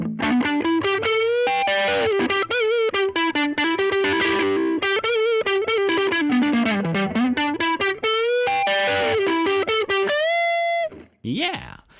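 An electric guitar on its neck pickup, distorted through a Line 6 Helix 10-inch cab sim, plays a loud, sustained lead line with bends and vibrato, ending on a held note and a short scrape, heard alone.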